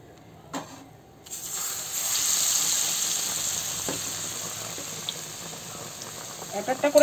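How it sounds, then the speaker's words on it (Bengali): Bread slices coated in gram flour batter go into hot oil, setting off a rising, steady hiss of frying that holds throughout, close by, with a few utensil taps near the start and end. "এখন আমি এই যে ব্রেডটা এই যে বেসন মাখাইয়ে ভেজে নেব"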